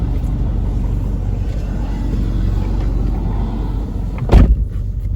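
Steady low road rumble fills the cabin of a moving car, constant and loud with no voices, broken near the end by a short thump.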